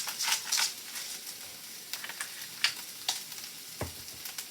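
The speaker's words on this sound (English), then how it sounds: "Get these going, the onions going first, soften up a bit." Onions softening in a frying pan give a quiet, steady sizzle with a few scattered crackles and soft stirring clicks, heard alone without talk.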